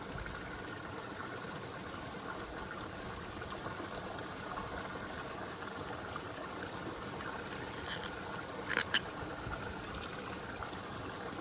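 Clear mountain stream water runs into a water bag on the Timberline Trail, a steady broadband rush and gurgle throughout, with a couple of brief brighter splashes near the end and no voices.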